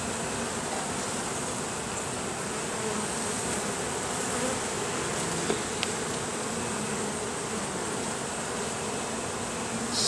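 Honeybees from a colony removed from a family room ceiling hum in a dense, continuous buzz close at hand, with a couple of faint clicks but otherwise unbroken and no voices.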